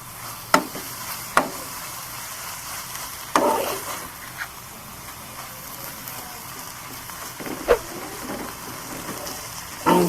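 Capsicum and onion frying in a pan, a steady soft sizzle with a few sharp spatula scrapes and clinks as the vegetables are stirred.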